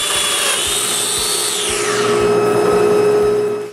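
A Domino joiner cuts a mortise in a wooden stile, a loud high motor whine with a steady tone and a quick pitch drop as the cutter plunges, repeated faint ticking below.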